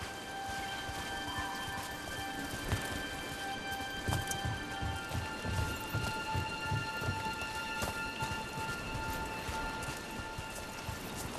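Steady rain falls in the video game Dragon Age: The Veilguard, with dense pattering on surfaces and low rumbles of thunder under a sustained musical drone, continuous and fairly quiet.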